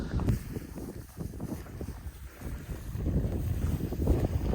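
Steady wind gusting across open Oklahoma prairie grassland, a broad rushing roar that swells and dips continuously with buffeting on the microphone, no voices.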